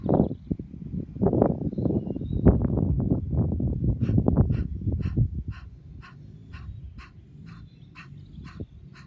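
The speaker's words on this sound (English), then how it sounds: "Breathing in and normal breathing out." Deep breathing in and out during a breathing exercise: a long, loud, close breath with a soft rushing texture that fades. Short rhythmic clicks follow in a quieter stretch at the end.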